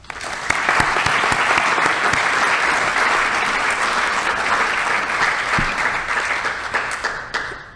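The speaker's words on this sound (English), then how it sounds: "Please join me in giving them a round of applause." Sustained applause from a large audience at a community center's annual meeting, honoring legacy donors; dense, steady clapping that holds at full strength for several seconds before starting to thin out near the end.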